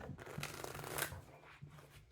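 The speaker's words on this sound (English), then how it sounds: "Do two more shuffles." A brief, soft flurry of tarot cards being shuffled, with papery riffles and a couple of quick taps, close and quiet.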